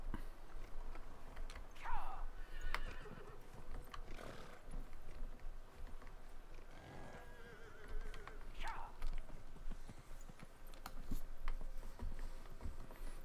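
Horse riding in the video game Dragon Age Inquisition: soft clip-clop hoofbeats under ambient game noise, with a couple of whinnies rising faintly in the background.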